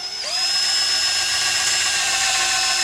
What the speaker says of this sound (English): we're just going to drill right next to that hole.